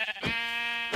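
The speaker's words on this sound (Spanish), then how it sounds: "Y una oveja." A single sheep bleat from Minecraft, one clear wavering call lasting under a second, close and alone.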